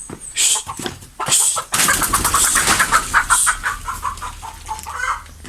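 Chickens cluck and squawk close by in a busy barnyard flurry, with several sharp, high calls over a low background hum.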